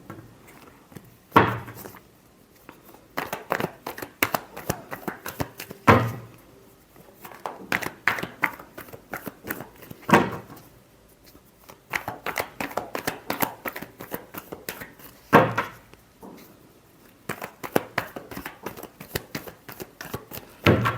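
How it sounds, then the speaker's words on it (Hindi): Tarot cards being shuffled by hand, with bursts of crisp riffling and flicking repeating in rhythmic clusters, separated by sharper slaps as the deck is squared, close and fairly loud, with no talking. "last shuffle"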